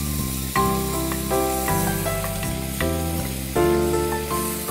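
Onion and garlic sizzle steadily in a pan as they fry until soft, a close, continuous crackle with brief surges when the pan is stirred.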